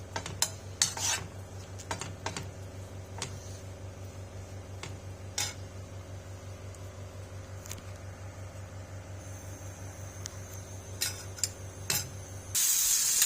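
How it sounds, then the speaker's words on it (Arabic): Soaked raisins sautéed in local ghee in a pan for a basmati rice dish, with a steady low hum and faint sizzle under intermittent close clicks and scrapes of a stirring utensil. "نشوحه في السمنه البلدي كده"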